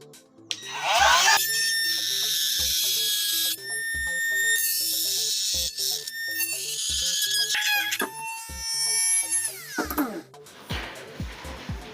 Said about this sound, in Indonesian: Pakai gerinda mini, mata gerindanya yang ini ya, yang kecil guys, kayak gini nih.